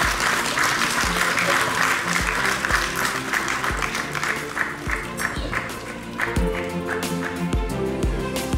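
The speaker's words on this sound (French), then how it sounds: "applaudir jusqu'à ce que son Excellence arrive ici" Audience at an e-sports event in Guinea applauding while waiting for a dignitary to arrive, dense sustained clapping over a steady rhythmic musical beat with thumping low hits.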